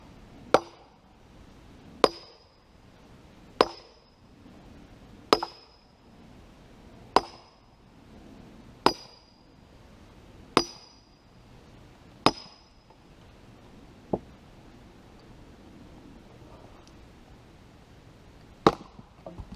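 Wood split with an axe: about nine sharp, loud chopping blows at steady intervals, each with a brief ringing tail, then a quieter strike and a last hard blow after a pause.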